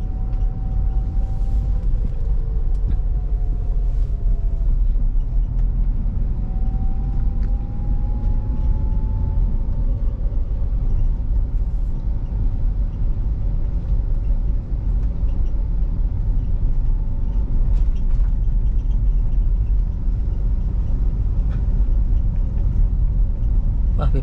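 A Toyota Avanza accelerating in third gear, heard from inside as a loud, continuous engine drone and road rumble that holds steady throughout.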